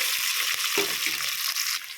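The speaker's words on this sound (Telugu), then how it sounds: "ఇవి ఒక 2 మినిట్స్ వరకు నూనెలో వేగాలి." Carrots and beans drop into hot oil in a pan after fried onions, a broad steady sizzle with a brief louder burst as they go in, then continuous frying hiss throughout.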